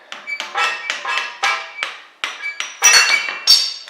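Metal tool hammering out a strut bolt on a 2015-2018 Jeep Cherokee KL without a punch, about a dozen sharp ringing metallic strikes in an uneven rhythm, close and loud with no speech.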